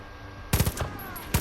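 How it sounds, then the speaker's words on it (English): Gunfire in a Far Cry game comes as a quick burst of rapid shots, a short pause, then another sharp burst, loud and close. "There's going to be a lot of gunfire to take out this heavy gunner"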